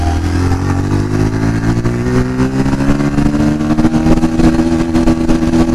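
A 2024 Bajaj Pulsar 125 motorcycle pulls hard in second gear, its engine drone rising steadily in pitch, loud and close throughout with a buzzing, slightly rattly exhaust note.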